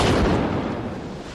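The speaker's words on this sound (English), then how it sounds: "This film of a military test shows what happens during an explosion." A bomb blast in a military test roars as a loud, close, broadband rumble that begins at full strength and slowly decays over a second or so, with no voices.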